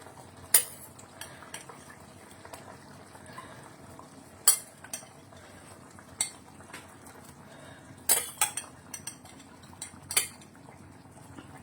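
Paneer cubes going into a pan of peas, with scattered sharp clinks and scrapes of a spoon against the pan over a low bubbling background, intermittent and close.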